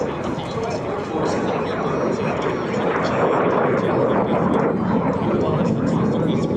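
A T-33 Shooting Star jet at an air show over Hampton Roads gives off a steady, loud engine roar that fills the whole stretch, while an announcer talks over it.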